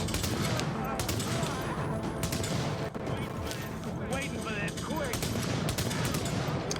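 Gunfire in the video game The Division, with dense bursts of shots crackling and popping across the whole stretch and some sharp single cracks among them, loud and busy against a constant background din.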